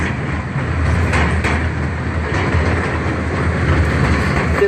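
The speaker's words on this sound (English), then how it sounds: "Throughout our train ride" The Louisville Zoo train ride rolls along its rails with a loud, steady rumble and faint rhythmic clatter of wheels, heard close from on board and continuous throughout.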